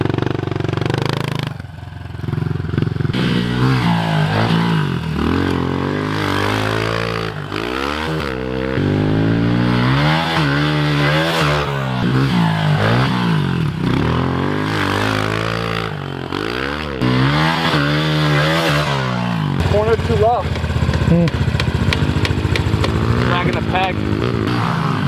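A new 2021 Honda CRF110F pit bike rides a backyard dirt track, its small engine revving and dropping steadily through throttle changes, loud and close throughout with brief clattery bits.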